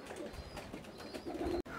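A pigeon up in a tree gives low, soft coos in a steady series under outdoor background noise, with no talking.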